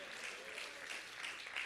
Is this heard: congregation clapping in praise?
yes